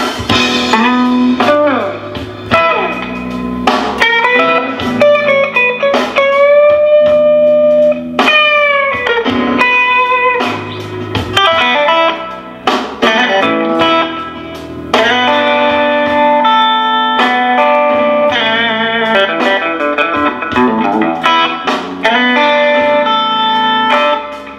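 Electric guitar with effects plays bluesy bends and runs in E over a blues backing track, loud and continuous, with frequent note slides and sustained tones.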